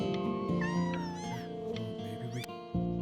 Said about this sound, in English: But I really can't have 5 cats around the house.